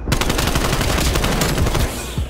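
Rapid automatic fire from an AK74-U in Black Ops Cold War, a dense, loud, continuous burst of close gunshots that runs almost the whole time without a break, no talking.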